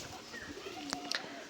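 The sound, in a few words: pigeons cooing in a racing pigeon loft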